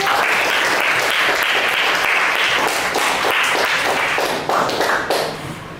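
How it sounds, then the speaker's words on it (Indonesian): Group applause in a high school classroom, dense energetic clapping from students that stays loud and continuous before tapering slightly near the end. "tepuk tangan di kelompok 1"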